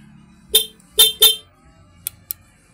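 Three short car horn beeps sound close by, followed by two fainter, clipped toots.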